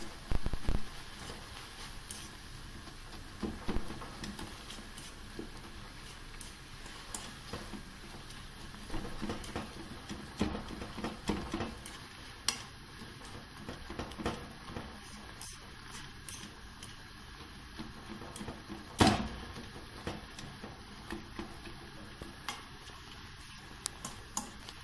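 A spinach tart mixture is stirred after black pepper, salt and cheese are added, giving faint, irregular ticking and soft scraping that patters on quietly over a low background.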